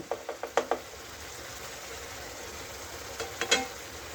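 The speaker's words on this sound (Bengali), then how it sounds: "1 চামচ ঘি মিশিয়ে দিলাম" A spoon scrapes and clinks against a pan while stirring ghee into a simmering Bengali egg curry, a quick run of light metallic taps at the start and again near the end over a faint steady sizzle.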